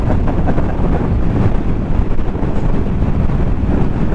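Strong, steady wind roaring across the microphone during a motorcycle ride toward Snowdon in Wales, a dense continuous low rumble with no speech over it.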